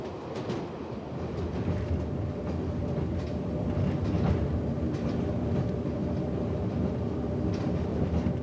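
A train rumbles steadily along the tracks across a high limestone plateau in Guizhou province, China, with rhythmic clatter and a continuous low roar, fairly loud and close, with no voices.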